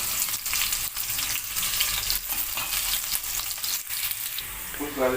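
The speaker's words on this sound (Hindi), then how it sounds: "ये 2 मीडियम साइज़ के प्याज काट के रखे हैं, इनको ब्राउन कर लेते हैं।" Two chopped medium onions browning in hot oil in a pan, giving a steady close sizzle with occasional scraping stirs and a brief clink near the end.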